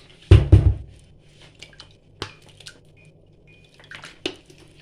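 Cold water from the fridge poured for pastry dough, heard as a short liquid splash near the start followed by a few scattered drips and light kitchen clinks, close and fairly quiet with no talking.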